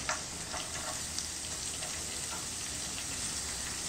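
Chopped onion and green chillies sauté in a pan with a constant soft sizzle, close by, with a few faint stirring taps and no talking.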